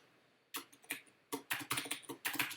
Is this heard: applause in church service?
no